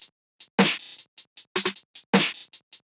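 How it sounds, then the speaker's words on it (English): A short open hi-hat sample in a hip-hop beat with a vintage sample flavour, crisp and bright, sounding over a pattern of repeated drum hits that recur in quick, even succession, with no voices. "Then after that I had this short open hat which sounds like this."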